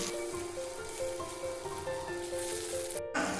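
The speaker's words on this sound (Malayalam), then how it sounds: "നമുക്കിത് ബ്രിഞ്ചാൾ ഓരോന്നിട്ടിട്ട് ഫ്രൈ ചെയ്തെടുക്കാം." Brinjal slices frying in hot oil in a pan for brinjal raita, a continuous even sizzle and crackle close by, with a brief break near the end, no voices.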